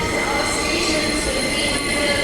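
Perth suburban train at Royal Show station, a steady loud rumble of rail cars with faint wheel squeal and busy platform noise throughout.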